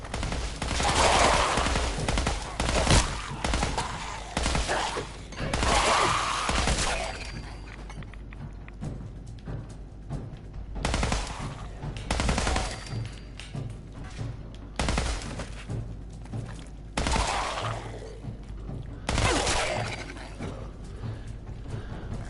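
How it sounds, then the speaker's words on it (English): Exploding gun weapons fire in Fallout 4, with bursts of rapid shots and blasts arriving in several separate volleys, mechanical clicks and reload clatter filling the quieter gaps between them. "With exploding gun weapons, you've got to be careful not to be in your own range of your own explosions."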